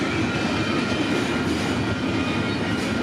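A freight train, PKC 113 running from St. Luc Yard in Montreal to Vancouver, rolls past close by with a loud, continuous rumble and rattle of wagons and wheels.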